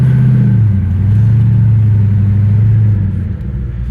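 A 1966 Ford Fairlane GT 390 with a four-speed manual rumbles close and loud as it is driven in a short area, the engine note climbing then settling into a steady low drone before easing off.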